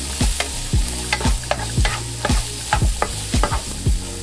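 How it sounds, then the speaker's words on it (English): Chopped garlic is stirred around in a pan for jerk chicken rasta pasta, with a steady sizzle under repeated scraping strokes of the utensil at a quick, regular rhythm, close and fairly loud, with no voices. "And then you're just going to add in your chopped garlic. And then just stir that all around."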